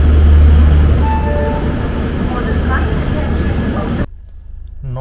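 The Dibrugarh–New Delhi Rajdhani Express rumbles loudly and steadily through North Lakhimpur junction, a heavy close rolling roar that cuts off abruptly near the end.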